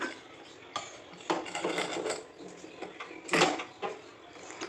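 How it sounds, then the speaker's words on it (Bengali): A metal lid clanks and scrapes as it is fitted onto a pressure cooker in a home kitchen, several sharp knocks and rattles spread over a few seconds, close and moderately loud. "তারপরে আমি জাস্ট প্রেসার কুকারটা লাগিয়ে দেবো আর কিচ্ছু দেবো না"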